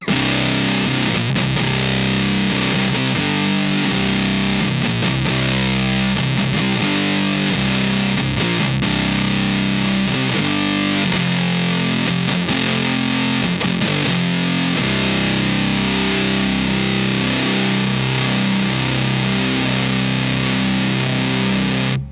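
Thick, buzzing fuzz-distorted electric guitar, an SG with P90 pickups through an O.C.E. Pedals Demon Core Fuzz, plays continuously with tight chugging rhythms and saturated sustained chords, loud and dense throughout.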